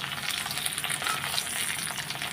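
Close, continuous frying in oil with steady crackle and sizzle while food is turned with a spoon, amid Bengali home cooking of biulir dal and jhinge alu posto.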